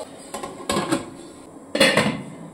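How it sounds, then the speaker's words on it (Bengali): Metal steamer stands clatter into a pot of hot water, a few sharp clanks and scrapes in two quick bursts with quiet pauses between, close by and alone. "স্ট্যান্ডগুলো বসিয়ে দিচ্ছি।"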